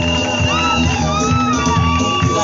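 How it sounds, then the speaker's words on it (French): A wedding crowd shouts, whoops and cheers with joy at a ring ceremony. The loud mass of voices is close and dense and keeps going for the whole stretch. "Qu'on l'encourage avec vos cris de joie."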